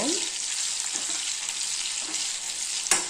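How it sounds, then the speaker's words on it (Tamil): Gooseberries frying in oil for a pickle, a steady close sizzle with a few soft stirring scrapes and a sharper knock near the end. "நெல்லிக்காய் வந்து அப்படியே நல்லா எண்ணெயிலேயே நல்லா பரட்டி விட்டு நல்லா எண்ணெய் பிடிச்சி கொஞ்சம் நேரம் வேகட்டுங்க"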